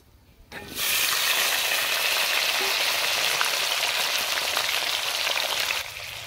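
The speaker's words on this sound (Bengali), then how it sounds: "এখন আমি আলুগুলারে সুন্দরভাবে লাল লাল করে ভাজা নেব।" Potatoes frying in oil, starting quietly before a sudden loud, dense sizzle that holds steady with faint crackles, close by and without speech, easing slightly near the end.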